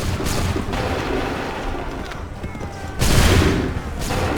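Musket volley from soldiers in Assassin's Creed III, a dense crackling burst of gunfire that swells again near the end amid battlefield din, with no clear separate shots.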